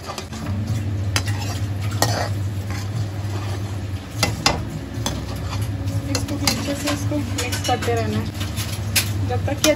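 Milk and milk powder stirred continuously in a pan while cooking down into khoya, a steady scraping and sizzling churn with utensil clinks, with a voice talking over it.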